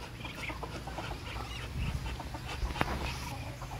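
Chickens and ducks on a Philippine backyard farm cluck and chatter softly at a moderate distance, scattered calls over a low ambient bed with no talking.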